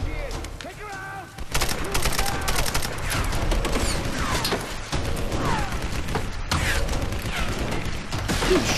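Gunfire in the Tomb Raider video game during a castle escape: dense bursts of rapid shots and booms rattle almost nonstop, loud and close, with voices talking over the fight.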